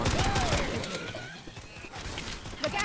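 Rapid gunfire in Left 4 Dead 2, played on a Minecraft-style survival map, crackling in a dense burst with shots close together, continuing through most of the moment amid busy game noise.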